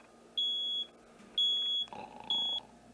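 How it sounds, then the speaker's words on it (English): A high, piercing electronic beep sounds three times in steady succession, loud and close, with faint background noise between the tones. "Wait, Junior, that's a smoke alarm."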